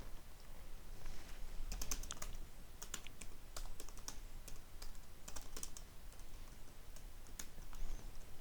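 Java code being typed on a computer keyboard: close, quick bursts of key clicks with brief pauses between runs, steady and moderately quiet, with no voices.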